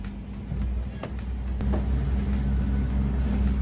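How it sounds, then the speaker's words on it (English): A car driven over a short distance, with a steady low engine hum and road rumble building slightly, heard close from inside the cabin, with a few clunks and no talk. "I'm gonna bring my car over here for this."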